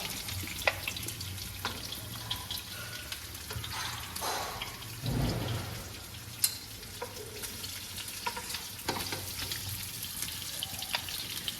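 Bitter gourd (karela) fries in a little ghee in a non-stick pan, giving a steady sizzle broken by occasional stirring scrapes and clatters, close and moderately loud.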